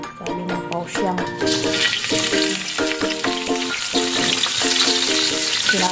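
Onions sizzle and fry in a hot pan for chicken curry, with a steady crackling hiss and repeated stirring clinks of a utensil against the pan, loud and close.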